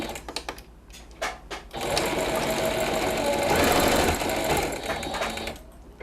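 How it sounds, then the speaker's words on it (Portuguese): A sewing machine stitches a small fabric bow for a cloud-shaped cushion, opening with a few short taps, then running in a steady, close whir for several seconds before slowing to stop. "mas primeiro vamos costurar o lacinho"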